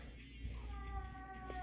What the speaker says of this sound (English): Sorry, my cat.